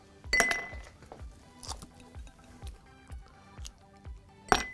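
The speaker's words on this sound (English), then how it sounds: "I should have nice cubes here that I could just drop into my glass" Clear ice cubes drop one after another into a glass, each giving a crisp clink and knock, spaced irregularly with a louder strike at the start and end, close and with no talking.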